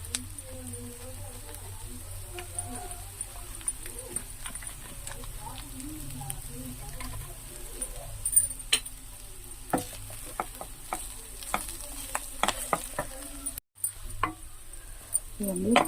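Prawns frying in a pan, a steady low sizzle with scattered pops and crackles and occasional stirring clinks, while a voice talks faintly over the cooking.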